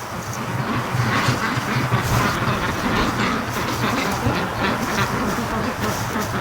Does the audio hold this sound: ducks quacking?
yes